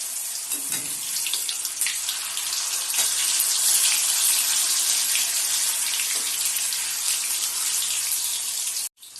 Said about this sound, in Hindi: तेल अच्छे से गर्म हो चुका है। इसमें हम पनीर को फ्राई कर लेंगे।